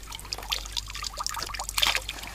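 Fresh spring water trickles on a White Sea island, a faint, bubbly dribble with small splashes, close and continuous, no voices.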